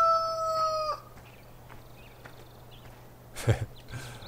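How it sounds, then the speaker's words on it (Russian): A rooster in the Farming Simulator 2013 farm game gives a short, fairly loud crowing call at the start, then only faint background farm noise and a brief thump. "Пока что один бедный петух ходит."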